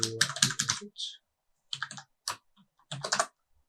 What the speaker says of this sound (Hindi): पासवर्ड हमें टाइप करना है अभी